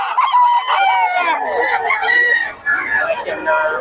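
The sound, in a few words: Tornado hatch gamefowl rooster crowing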